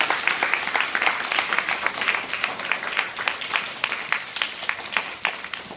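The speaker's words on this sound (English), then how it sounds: "can we give them one more round of applause?" A school audience at St. Johns School in Lakemont, Altoona, Pennsylvania, applauds the Altoona Symphony musicians. The clapping is dense and steady, close and lively, and no voices can be heard over it.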